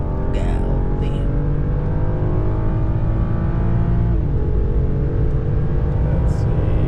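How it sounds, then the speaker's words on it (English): A BMW N55 engine fitted with a Burger Motorsports aftermarket air intake revs hard under full throttle with a loud, steady, sustained drone and audible intake roar, close and continuous throughout with no talking. "the intake's so much louder now"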